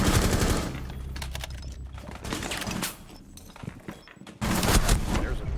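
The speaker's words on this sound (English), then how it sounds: "shots being fired out" Bursts of rapid automatic gunfire in a competitive shooter esports match, loud volleys broken by short pauses, with a commentator talking over parts of it.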